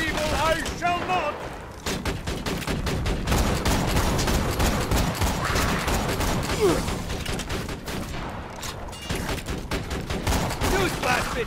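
Rapid sustained gunfire from turrets in the video game Tiny Tina's Assault on Dragon Keep, a dense continuous rattle of shots with clanking mechanisms, loud and close, with game voices talking over it.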